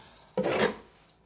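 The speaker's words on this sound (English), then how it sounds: "Scrape your thin set off." A trowel or scraper drags once across tiled shower wall, lifting excess thinset mortar in a short, close rasping scrape that lasts about half a second.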